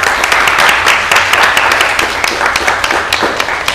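Audience applauding at the close of a talk, with dense, steady clapping at full volume throughout and no speech over it.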